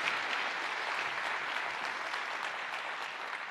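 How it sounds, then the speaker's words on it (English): An audience at an Amazon re:MARS keynote gives Richard Browning a steady, full round of applause, dense and sustained throughout without pause. "Another big round of applause for Richard Browning."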